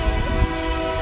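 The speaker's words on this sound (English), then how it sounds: "we'll wait for our train." A passing train sounds its horn loud and close, a sustained multi-tone blare over deep rumbling rail noise, steady throughout the short stretch with no voices.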